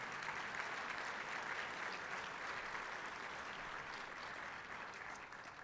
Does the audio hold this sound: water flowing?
no